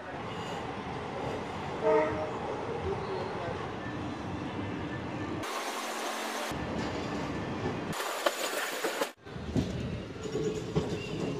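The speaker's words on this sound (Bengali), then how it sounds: "ছেড়েছে আমাদের ট্রেন।" A passenger train pulls out of Rameswaram station toward the Pamban Bridge, its steady rumbling roll carrying through most of the clip amid breezy island air, with a brief horn-like tone early on and a few abrupt breaks in the sound.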